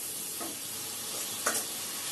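Rice frying and being stirred in a pan, a continuous sizzle with a few scraping strokes of the spatula against the metal.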